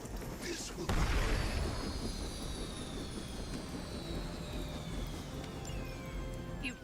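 Helicopter engine whines and roars in the Marvel's Midnight Suns video game, a loud burst near the start settling into a steady drone with descending pitched tones, game sounds and faint voices mixed in.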